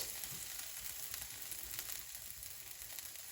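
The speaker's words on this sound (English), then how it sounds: "Now I don't want it to sizzle too much." Garlic sizzling and frying in a hot pan over lowered heat, a steady close crackle and hiss running without a break and without talk.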